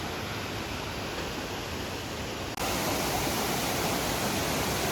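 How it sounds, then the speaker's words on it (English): Steady roaring rush of falling water at Dragon and Phoenix Falls in Taoyuan City, a continuous broadband hiss that jumps louder midway through, with no talking. "Some of the waterfalls just here."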